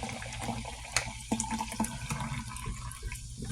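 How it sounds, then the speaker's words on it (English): Polar seltzer pours steadily into a cup, a continuous close fizzing splash with small bubbly crackles throughout and no talking. "I'm going to actually have some polar seltzer. I'm going to pour it into my,"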